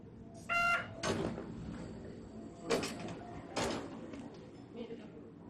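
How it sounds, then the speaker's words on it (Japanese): Monorail or train sliding doors opening at Kokura station, the end of the line, with a chime followed by several loud hissing and thudding door bursts spaced a second or two apart. "開くドア。"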